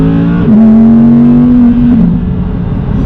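An Audi R8 in sports mode pulls hard with a loud, steady, buzzing engine note that holds a fairly even pitch close by, with no talking.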